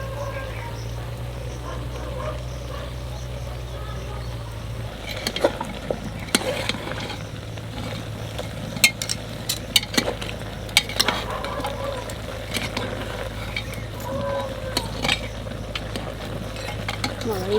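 Meat stir-fried kosha style in a pan, with a soft continuous sizzle and scattered clinks and scrapes from utensil stirring that grow busier partway through, alongside a low steady hum.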